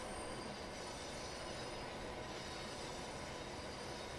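A simulated train running in Train Sim World 6, a continuous faint rolling rumble of wheels on rails with a steady airy roar and no breaks.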